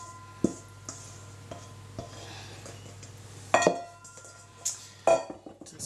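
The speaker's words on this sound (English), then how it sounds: "Use the spatula just to get the last of the liquid out of the bowl." A spatula scrapes red velvet cake batter from a mixing bowl, giving soft rubbing strokes broken by a few sharp clinks of utensil against the bowl, close and moderately quiet.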